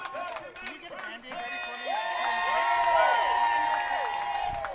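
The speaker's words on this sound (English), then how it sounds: "PA announcer trying to get the Canadian crowd into a bit of a frenzy here" A beach volleyball crowd at a Canadian finals match in Halifax cheers and whoops in a swelling roar while a PA announcer's amplified voice booms over them and a commentator talks.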